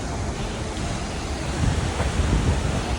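Rushing water at the bottom of a waterfall, a loud, dense, continuous roar that swells slightly toward the end, heard close with no talking.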